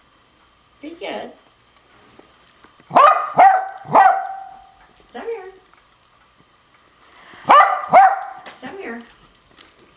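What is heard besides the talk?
dog barking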